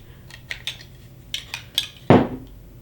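A spoon prying the lid off a FoodSaver vacuum-sealed jar: a few light metallic clicks and scrapes, then one louder pop as the seal gives, close and alone.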